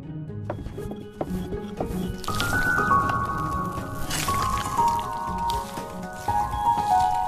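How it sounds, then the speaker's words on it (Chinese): Lard being stirred and mixed into millet flour to make a crumbly millet pastry filling, with soft wet squishing, dabbing and patting sounds at moderate volume. "猪油和小米面混合搅拌"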